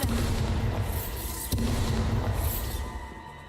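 Bombarda explosion spell in the video game Hogwarts Legacy: a heavy booming blast with a sharp crack about halfway through that sets off a second rumbling surge, loud and near, fading slightly at the end.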